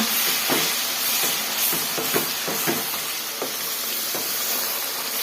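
Onion chutney fries in oil in a pan, a steady loud sizzle broken by repeated scraping knocks of stirring throughout.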